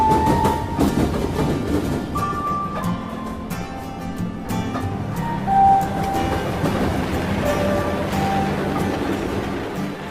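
The Golden Eagle Trans-Siberian train rolls steadily along the rails through the Baraba Steppe with a continuous low rumble, occasional clacks and brief high metallic squeals.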